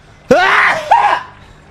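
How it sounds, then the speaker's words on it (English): A person sneezes in a strange backwards way: a sharp, loud, voiced burst followed by a second shorter squeal, close up and over in about a second. "I gotta sneeze."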